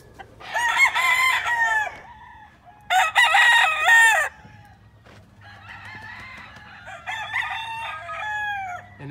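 Roosters crow and hens cluck in breeding pens on a farm, two loud crows close by followed by a longer, rougher crowing call, with a low steady hum underneath and no speech.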